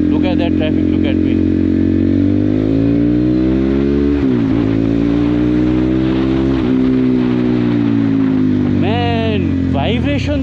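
Continuous engine drone from a Crossfire CF 250 Twin motorcycle ridden through Nepali road traffic, with rising and falling revs, nearby vehicle noise and a brief horn-like tone near the end; someone talks over it.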